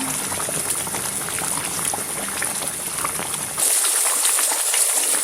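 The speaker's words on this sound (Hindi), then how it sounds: "इसकी भुनाई एहतियात से कीजिए क्योंकि ये बहुत छींटा उड़ा रहा है गर्म गर्म।" Tandoori chicken masala fries hard in oil in a karahi over coals, a dense, steady sizzle and crackle of hot spattering that continues without a break and grows brighter near the end.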